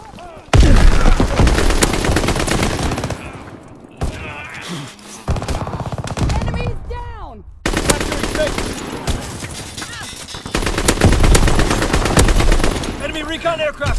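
Heavy gunfire in a Call of Duty: WWII multiplayer match, loud sustained automatic bursts broken by brief pauses, with radio-style announcer voices calling out over the shooting.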